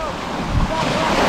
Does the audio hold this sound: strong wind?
yes